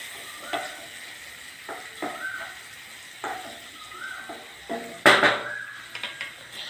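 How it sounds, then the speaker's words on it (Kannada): Onion, four green chillies and half a kilo of cabbage fry in a pan with a soft steady sizzle, broken by repeated clinks and scrapes of a spoon stirring, one louder clatter near the end. "ಒಂದು ಈರುಳ್ಳಿ, 4 ಹಸಿಮೆಣಸಿನ್ಕಾಯಿ, ಅರ್ಧ ಕೆಜಿ ಕೋಸು ಫ್ರೆಂಡ್ಸ್ ಹುರಿತಾ ಇದ್ದೀನಿ."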